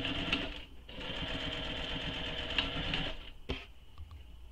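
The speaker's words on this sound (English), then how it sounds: "So you're top stitching along the long folded edges." A sewing machine top stitching along the long folded edges of fabric for a clutch bag, running in a steady, close whir for a few seconds, then stopping with a couple of soft clicks.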